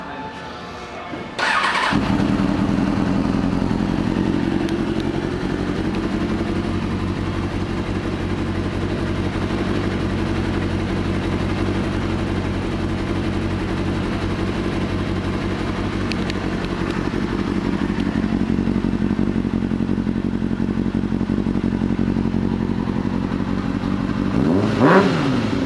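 A 2000 Kawasaki Ninja ZX-6R motorcycle starts up close by, then settles into a steady, loud idle that runs on before a brief sharp rev near the end.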